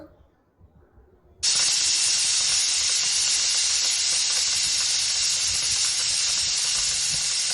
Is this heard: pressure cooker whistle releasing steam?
yes